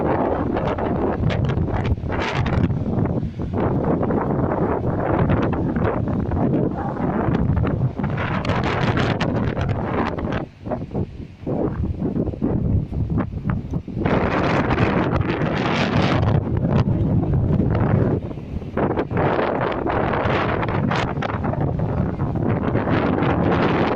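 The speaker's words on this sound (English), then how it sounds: "Wow, the wind's died down a bit" Strong wind buffeting the microphone at a beach marina in Waterloo, Liverpool, loud gusty roaring that surges and briefly drops around the middle, with no voices.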